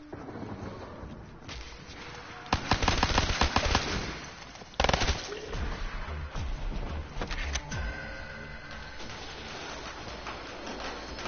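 Gunfire in the Black Ops 3 Zombies video game, with bursts of rapid automatic shots and a few sharp single cracks over a low background, fairly quiet overall and with no talking.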